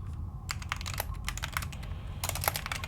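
Rapid computer keyboard typing while playing the game Duskers, bursts of close clicking keystrokes in uneven clusters over a low steady hum, no talking.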